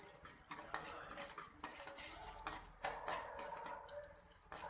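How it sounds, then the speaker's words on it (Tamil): Chana dal lightly roasts in a pan for coconut rice, giving soft, irregular ticking and scraping as the lentils are stirred, quiet and close. "கடலைப்பருப்பை சேர்த்துட்டு ஒரு லைட்டாக வறுத்து எடுத்துக்கோங்க"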